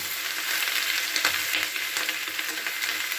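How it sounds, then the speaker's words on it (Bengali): Vegetables sizzle steadily in a hot pan while being stirred for a small-fish curry, a continuous close, even frying hiss with faint scraping and no talking. "আমি নাড়াচাড়া করে মিশিয়ে নিচ্ছি এটা একটু আমি ভাজে ভাজে করে নিচ্ছি"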